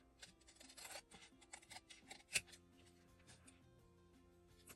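Paper being trimmed to size for a mini Christmas postcard, quiet rasping and rubbing cuts in short irregular bursts with one sharper snip midway, close and faint, no talking.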